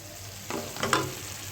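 Chopped vegetables tipped into a hot pan for sabudana khichuri, a sudden burst of sizzling and stirring that swells briefly, then settles into a soft steady fry, close and alone with no talk.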